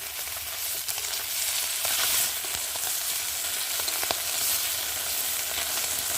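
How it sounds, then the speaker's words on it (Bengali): Small fish, pomfret-like parshe, frying in hot oil in a wok, a steady dense sizzle with occasional crackles and spatters throughout, close and continuous with no talk. "এখন অল্প অল্প করে মাছগুলোকে ভেজে নেবো"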